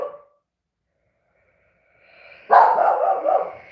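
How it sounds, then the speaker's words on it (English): Dogs barking in a burst of loud, overlapping barks after a short lull, close by in a home as kids arrive, with a brief sound at the very start. "the dogs are barking."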